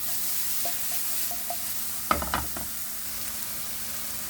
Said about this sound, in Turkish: Hepsi iyice sotelendi.